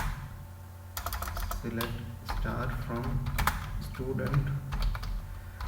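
Typing an SQL query on a computer keyboard: clusters of quick, light key clicks come in short bursts under someone speaking Hindi close to the microphone.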